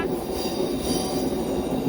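Train entering KSR Bengaluru station, a steady rumbling roll with faint high wheel squeal, close and continuous for a brief moment, no talking.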